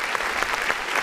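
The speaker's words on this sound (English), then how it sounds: "let's go ahead and give a clap" A short burst of applause from a group of people, dense, even clapping filling the whole second at moderate loudness.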